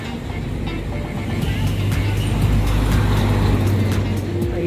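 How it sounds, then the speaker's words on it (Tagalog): Road traffic on a highway in Dalaga, Sorsogon route, with a steady stream of vehicles rumbling past nearby, a continuous low engine drone and occasional louder passes. "ang daming dumadaan sa sasakyan"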